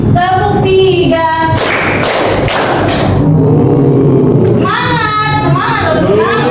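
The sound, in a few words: class clapping in a rhythm game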